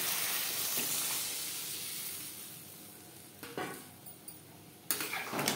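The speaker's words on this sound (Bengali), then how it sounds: "3-4 মিনিট মশলার সাথে সবজি ভেজে নেওয়ার পর দিয়ে দেবো জল।" Sliced ridge gourd frying with spices in a pan gives a steady close sizzle that fades slowly, then sharp hissing bursts near the end as water is poured in.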